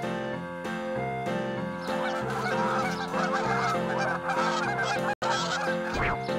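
Geese honk loudly and continuously, a dense overlapping chorus of harsh calls from a flock nearby.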